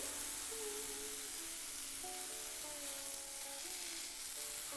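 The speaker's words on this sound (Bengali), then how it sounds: "বড়াগুলোকে উল্টে পাল্টে ভেজে নিচ্ছি" Cabbage fritters frying in hot oil give a steady, close sizzle with a soft crackle throughout, and a few faint tones rise above the frying noise.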